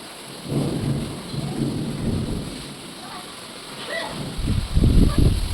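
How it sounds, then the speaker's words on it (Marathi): Heavy rain pours steadily, a dense hiss across the whole clip, joined by deep low rumbling surges that grow louder toward the end, suggesting thunder. "अजून चालूच आहे मित्रांनो पाऊस"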